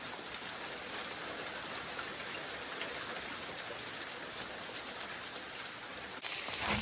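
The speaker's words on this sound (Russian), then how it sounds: "В общем, град продолжается," Hail pours down during a storm in the Chernobyl zone, a dense, steady hiss of pellets striking surfaces all around, constant and broadband, with the sound shifting abruptly near the end.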